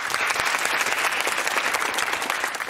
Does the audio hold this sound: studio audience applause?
yes